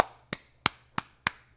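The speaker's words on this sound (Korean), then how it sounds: "나만 박수 치네." Four crisp hand claps at an even, brisk pace, each short and sharp, from a single person in a quiet room.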